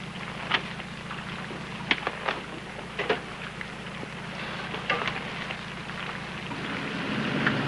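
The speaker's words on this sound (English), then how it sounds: "Starting to rain, Mr. Grudge." Rain comes down in a constant soft wash, broken by scattered close taps and drips, building slightly toward the end with no talking.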